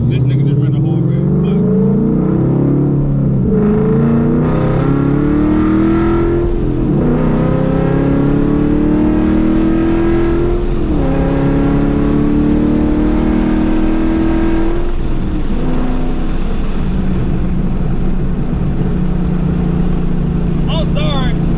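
Ford Mustang engine with newly installed headers and mid pipe, revving loudly and repeatedly through rising and falling pulls on a first drive, heard from inside the car with people talking over it.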